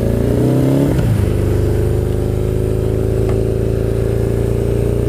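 A Suzuki GS850 motorcycle engine runs loud and close while riding, with a brief lower rev change near the start, then a steady droning pitch, and no talk.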